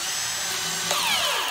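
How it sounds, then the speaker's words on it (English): Milwaukee 2704 cordless drill driving a lag screw into wood without pre-drilling, a close, loud whirring motor whine that holds steady and then dips in pitch as the screw bites. "I'm going to try and do it blind with no pre-drilling."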